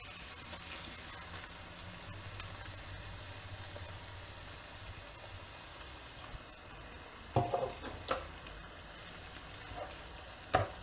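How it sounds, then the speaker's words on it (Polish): Turkey goulash with onion and tomato purée sizzles quietly in a frying pan while a utensil stirs it, with a few soft scraping knocks near the end. "Dobrze przemieszajmy całość."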